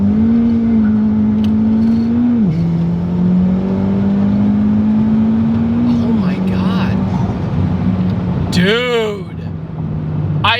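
A turbocharged Chevy Cruze running 30 pounds of boost accelerates hard up close, its loud droning engine note climbing steadily and dropping at each gear change, with a quick fluttering burst near the end.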